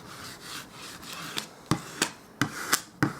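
A large Cricut scraper is dragged over laminate on sticker paper in a run of rubbing strokes. Faint scrapes give way to sharper, close, regular swipes, about seven in all, with no talking.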